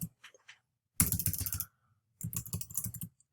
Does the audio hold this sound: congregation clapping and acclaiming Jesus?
no